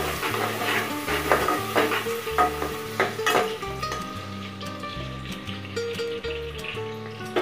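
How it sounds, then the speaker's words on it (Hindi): Chopped ingredients fry in a pan for aloo tahari, with steady sizzling under a loud, rhythmic music track, while a utensil stirs and scrapes the pan now and then. "जब तक ये लाइट गोल्डन ब्राउन हो जाता है तब तक हम इसे फ्राई करेंगे।"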